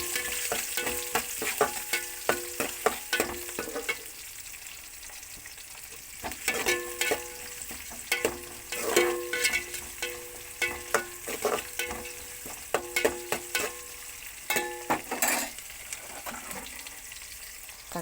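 Onion and green chilli stir-fried in a pan, a steady sizzle broken by repeated scraping and clattering strokes of a spoon against the metal, close and fairly loud throughout, with no talking.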